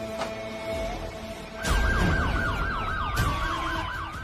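A loud wailing siren sweeps rapidly up and down over a low traffic rumble, kicking in after a short stretch of quieter tones.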